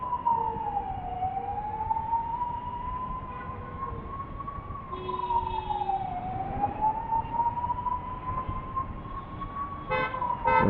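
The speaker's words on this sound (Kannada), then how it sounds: "ಈ ಟ್ರಾಫಿಕಲ್ಲಿ ಆಂಬುಲೆನ್ಸ್ ಗುರು" An ambulance siren wails in heavy Bangalore traffic, a loud, slowly rising and falling tone that holds steady throughout, with a few horn toots near the end.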